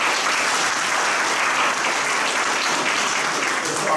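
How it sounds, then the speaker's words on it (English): An audience at a talk event applauds after a round of lightning talks, producing a steady, dense wash of clapping from many hands that holds evenly for several seconds with no talk over it. "A round of applause for him."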